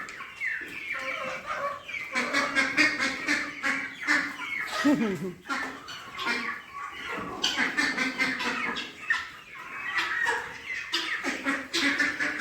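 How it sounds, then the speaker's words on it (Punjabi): Ducks and chukar partridges running about a farm field to eat grain, with repeated quacking and squawking bird calls, fairly close and busy, mixed with a person talking over them. "ਬਤਕਾਂ ਤੇ ਚਕੋਰਾ ਆ ਅੱਡ ਲੱਗਿਆ ਪਿਆਰ ਦਾ ਖਾਣਾ ਦਾਣਾ ਖਾਣ ਸਭ ਭੱਜੇ ਫਿਰਦੇ"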